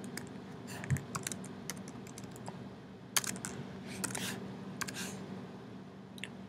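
Fingers type on a computer keyboard in a quiet office setting, producing irregular soft clicks with a few sharper, louder keystrokes spread across the stretch.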